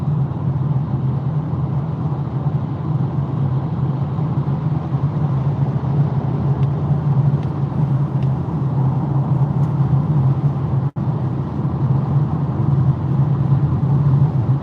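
A Polestar 2 electric car cruising on a road, with a steady low rumble of road and tyre noise inside the cabin, even and unbroken throughout.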